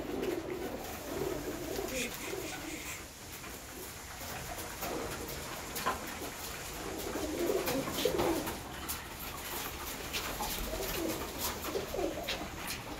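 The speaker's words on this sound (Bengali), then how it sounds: "এই যে একটা পায়রা ঢুকতে পারছে না কেন তা কি জানি" Pigeons coo softly and repeatedly while feeding, low murmuring calls with faint pecking clicks in a quiet, close setting, no talking.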